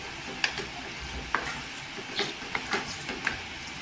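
Tomato bhaji with chilli being stirred in a pan, a low sizzle underneath with soft, irregular scrapes and clicks of the spoon against the pan, close and fairly quiet.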